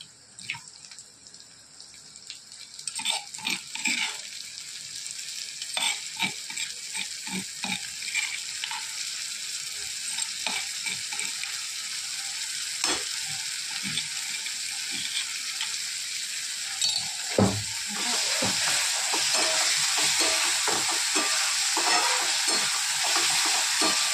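Onions sizzle in a pan as chili thecha goes in, with scattered clatters and scraping stirs at first, then a fuller, louder hiss of frying that grows steady near the end.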